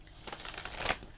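Playing cards are shuffled in a quick burst of soft, papery riffles and flutters, close and fairly quiet, with no voices.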